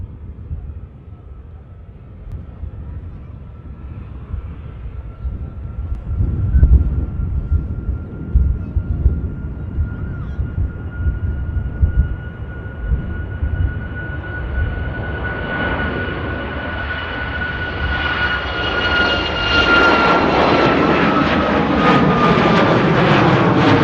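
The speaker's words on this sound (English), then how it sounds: "Ryanair on the roll out to Paphos." A Ryanair jet takes off at Manchester Airport bound for Paphos: a loud, steady engine roar with a whining tone that swells and brightens as the aircraft accelerates down the runway.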